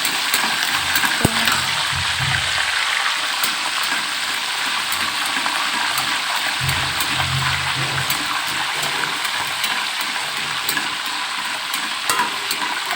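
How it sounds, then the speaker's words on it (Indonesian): Heavy rain pours steadily outdoors as a dense, even hiss with occasional faint low thumps and clatter, continuous and fairly loud throughout with no talking. "Lagi hujan lebat di sini"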